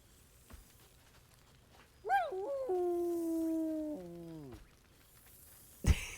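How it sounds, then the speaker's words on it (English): Scratch, the dog in the video game Baldur's Gate 3, gives a single drawn-out, whiny bark-like vocalisation of about two seconds that holds its pitch and then slides down, with a sharp knock shortly after. "Scratch barks merrily in something like agreement"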